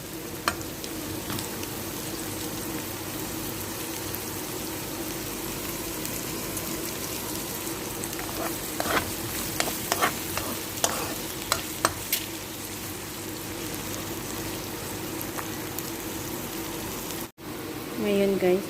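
Onions frying and being stirred in a pan while cooking chicken with ampalaya and potato, a steady sizzle with scraping stir strokes throughout, a few sharper clicks midway, and speech faintly present.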